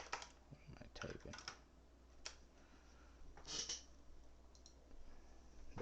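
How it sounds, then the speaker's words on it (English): Typing on a computer keyboard, with quick bursts of soft clacking keystrokes in irregular clusters and short pauses between them, fairly faint against a quiet room. "What am I typing?"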